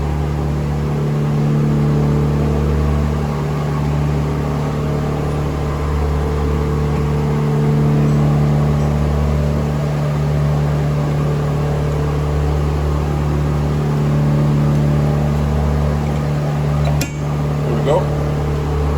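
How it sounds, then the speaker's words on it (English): Electric tapping arm threading a hole, a steady motor whir and hum with a low drone running throughout, a brief sharp click near the end. "Now, we're going to do the tapping here as well."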